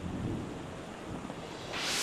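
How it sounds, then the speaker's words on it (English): Heavy rain pours steadily over a golf course during a stormy morning, a dense broadband hiss that swells louder toward the end, with low rumbling wind buffeting underneath. "Well, you know, rain and lots of it."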